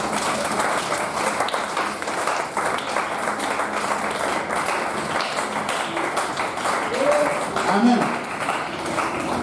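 A church congregation applauds together in praise during a French-language service, with steady, dense clapping that swells slightly near the end while a voice speaks briefly over it.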